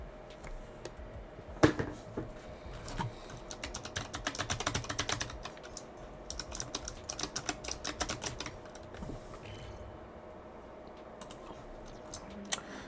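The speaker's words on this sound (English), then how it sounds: "They might need to take my keyboard away from me. I like clicking it." Computer keyboard being typed on: quick, light clicking keystrokes in uneven bursts, close and fairly quiet, with short pauses between flurries and no talking.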